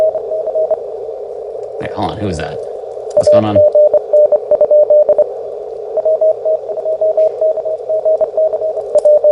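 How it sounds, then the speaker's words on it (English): Steady Morse code CW sidetone beeping in rhythmic dots and dashes from the Morse Runner radio contest game, loud and continuous, with a person talking over it partway through. "Nope, stay with Morse code."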